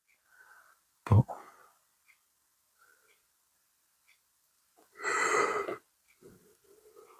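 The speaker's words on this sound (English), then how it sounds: "I got really tired all of a sudden and I'm yawning." A person yawns once with a long, breathy, drawn-out exhale in the middle, set between quiet murmured sounds and a sharp sniff near the start.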